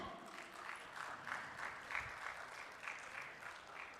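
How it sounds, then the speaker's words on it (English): Audience applause for workshop speakers at an evening inauguration event, a steady wash of clapping from a crowd that runs throughout with small swells and no talk over it. "please give them a very big hand"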